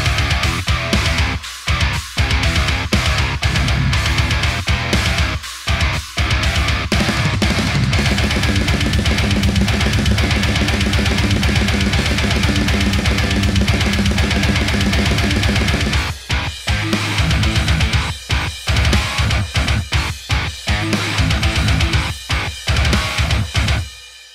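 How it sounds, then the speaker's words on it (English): A preview of a work-in-progress album mix, with dense full-band music playing loudly and continuously and several brief sharp dropouts and stops, without any voices. "I have a small preview of how the mixing and production sounds currently."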